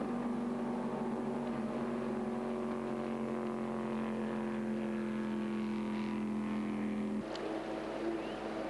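Jet boats race in the New Zealand Jet Boat Marathon, a sustained engine roar holding steady at mid distance, with a brief shift in pitch near the end.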